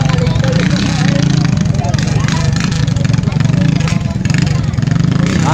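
Race motorcycle engines run during Kress Cup national race testing, a loud continuous mechanical drone with shifting revs under steady crowd and voice noise, with no quiet gaps throughout.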